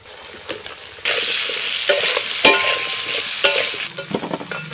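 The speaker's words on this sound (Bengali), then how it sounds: "কড়াইতে তেল দিয়ে এবার দিয়ে দিচ্ছি আলু।" Potatoes sizzle in hot oil in a wok, a steady loud frying hiss that jumps up as they go in, with a few clinks and stirring scrapes over it.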